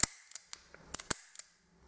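Mauser Magnum .45K blank-firing revolver (Schreckschussrevolver) discharging in a series of sharp, loud cracks, about eight reports spaced irregularly over under two seconds, then quiet.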